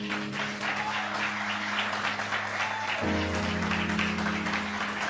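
A church congregation applauds in a steady dense wash of clapping, held evenly throughout, with a sustained musical tone underneath that shifts partway through.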